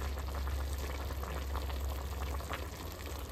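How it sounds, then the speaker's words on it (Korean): Seafood marinara mix simmers in a pot at a steady, close rolling boil, with continuous bubbling and hissing and no voices. "해산물 믹스를 넣어서 끓이고 있습니다"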